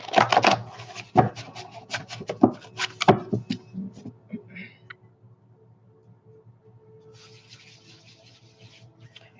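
Tarot cards being shuffled by hand, a burst of brisk riffling and sliding card noises up close in the first few seconds, then tapering off to quiet handling.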